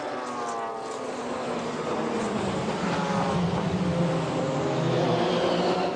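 Race cars, including WR and Courage prototypes, at the 1995 Le Mans 24 Hours near the Dunlop chicane, engines rising and droning together as a pack passes, a steady loud roar under light commentary.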